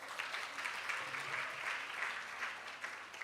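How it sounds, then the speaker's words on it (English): Audience at a conference claps steadily, a soft, even patter of many hands heard from some distance without talk over it. "round of applause"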